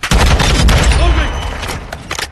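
Video game gunfire: a loud, close, sustained burst of rapid automatic shots that tapers off, then a few scattered cracks near the end, with a voice faintly heard under the firing.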